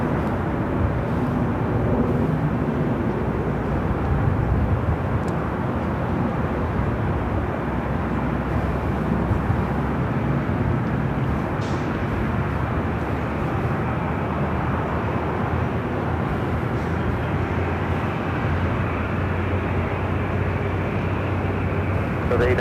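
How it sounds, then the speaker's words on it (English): An Airbus A380 airliner arrives at Los Angeles International Airport, heard as a broad, steady jet roar that holds evenly and fairly loud throughout, with no clear rise or fall. "Number 3 for arrival here on the north side is this A380."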